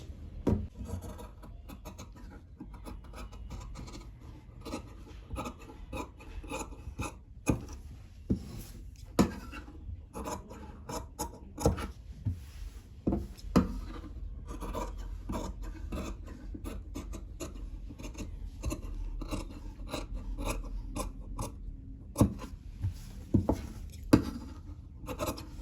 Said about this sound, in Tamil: இப்போ கட்டிங் வெட்டிடலாம்